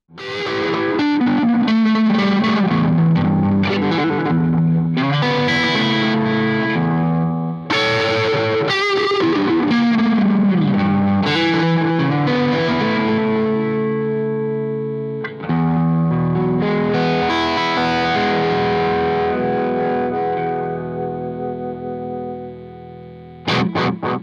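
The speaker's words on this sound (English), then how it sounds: "you'd be putting distortion after delay. It's not a pleasing sound" Distorted electric guitar playing a melodic line, with the distortion placed after a delay pedal, the repeats smearing into a fizzy, harsh wash; loud and continuous with no speech.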